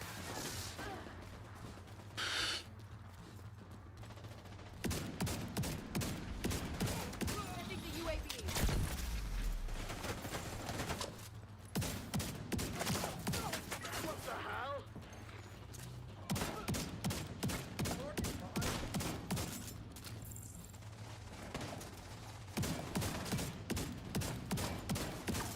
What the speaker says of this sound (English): His machine guns taking the shield down quite quick as well